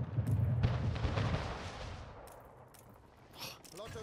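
Cannon fire rumbles through a naval battle in the strategy game Anno 1800, a dense burst of booming shots up front that fades into a lower, steady din, faint overall, with someone speaking over it.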